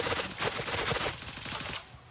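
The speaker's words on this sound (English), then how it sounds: "I came under fire." Rapid automatic gunfire from an enemy in the Gray Zone Warfare video game, a dense burst of close cracking shots fired in quick succession that trails off within about two seconds.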